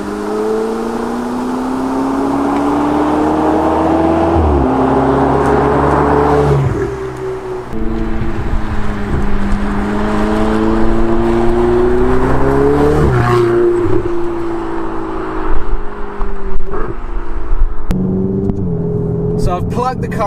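A Ferrari 488 GTB's turbocharged engine pulls hard through the gears, each rising roar cut by a quick upshift before climbing again, loud and close from inside the car.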